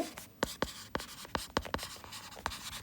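Marker or chalk writing on a board during an accounting lecture, a quick series of close, scratchy strokes in an uneven rhythm, alone without talk.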